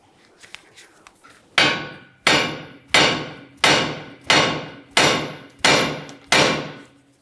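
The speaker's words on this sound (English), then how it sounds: "using a hammer and just lightly tapping on the knuckle itself, causing vibration" Seven sharp metallic hammer strikes on the front steering knuckle of a 2006-2012 Ford Fusion ring out at a steady pace after a quiet start, each blow decaying with a short metallic ring.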